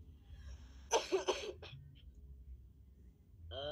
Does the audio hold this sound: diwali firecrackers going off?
no